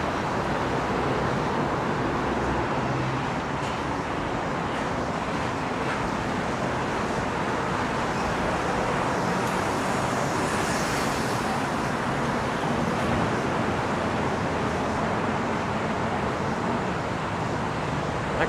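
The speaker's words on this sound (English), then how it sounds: "We'll be able to see some of the traffic coming into Manhattan." Traffic heading into Manhattan near Williamsburg, a constant dense roar of road noise and passing cars at close to moderate distance, loud and steady throughout with a faint higher whoosh in the middle.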